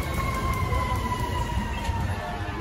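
A fire engine siren wails faintly and continuously on a busy New York street in SoHo, somewhat distant and blended with constant traffic and city noise.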